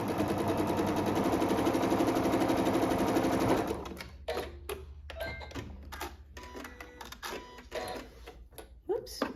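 Sewing machine running steadily for a few seconds while stitching a quilt block seam, close and loud, then stopping and followed by scattered clicks and handling noises of fabric and thread.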